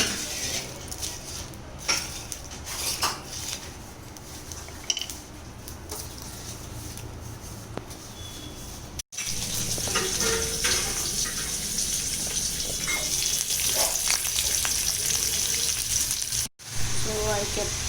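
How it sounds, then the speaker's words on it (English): Masala spices roast in a heated pan with a steady, close, dry sizzling hiss that runs throughout, with a brief break near the middle and faint clatter on top. "I'm heating a pan here. We'll put all the masala in that."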